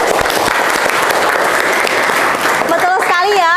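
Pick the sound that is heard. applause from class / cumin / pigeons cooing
applause from class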